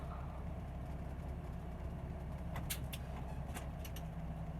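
Car idling and rolling to a stop, steady low engine rumble with a few sharp squeaks near the end as the brakes take hold, no voices.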